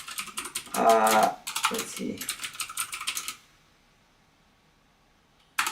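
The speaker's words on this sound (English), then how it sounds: "I don't know why I'm typing on that keyboard." Clicky typing on a computer keyboard in bursts for about three seconds, then silence and one last keystroke; a brief spoken remark overlaps the typing.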